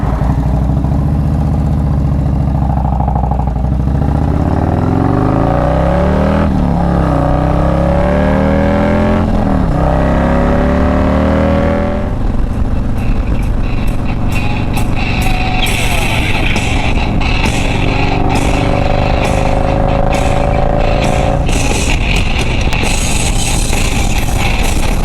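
Steady, loud wind and road roar from a motorcycle cruising on the highway at about 70 mph, the engine note rising as it accelerates early on, then a sustained, dense rush with faint crackles.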